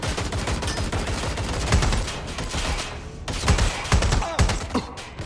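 Video game gunfire from Watch Dogs Legion on PS5: a steady stream of rapid shots from several guns, with heavier bursts standing out near the end.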